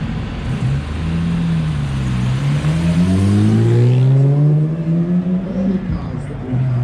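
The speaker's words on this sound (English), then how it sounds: "There we are then, Mark II, heading up the moving motor show." A Jaguar Mark II drives off from a moving motor show at a summer festival, its engine rising through a long, loud rev that swells and holds near the listener, with a commentator talking over it.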